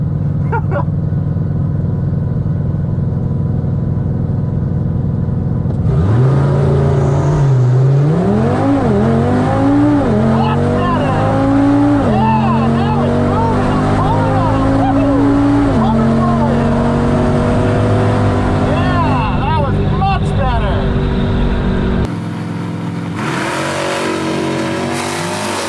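A tuned Audi RS3 on a Stage 2 E85 tune with street tires launches hard at a drag strip from inside the car, rising through several quick gear changes with loud engine and turbo noise before lifting off.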